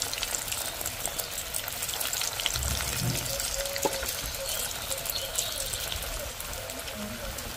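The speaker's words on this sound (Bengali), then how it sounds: "এক এক করে আমি চিকেন চিজ বলগুলো ভেজে নেব।" Chicken cheese balls deep fry one by one in hot oil over low heat, a close, steady crackling sizzle with bubbling and a brief low thump midway, running continuously.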